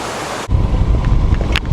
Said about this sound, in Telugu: వాటర్ ఫాల్ అయితే బాగుందండి చాలా బాగుంది